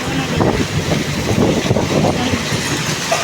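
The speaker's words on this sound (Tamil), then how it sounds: "புயல் மலையா பனிக்கட்டி மலை ஆலங்கட்டி மலை பெய்யுது பாருங்க" A hailstorm with heavy rain and wind makes a dense, steady roar of pounding ice and rain, with gusty rumble throughout.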